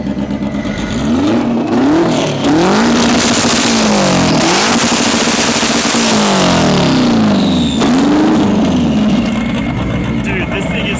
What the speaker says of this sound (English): I'm gonna do first a two-step and then we'll have to do a burnout over there.